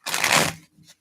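A deck of playing cards is shuffled in one quick riffle, a dense crisp flutter of card edges lasting about half a second, then a short softer rustle as the cards settle, close by with no talk.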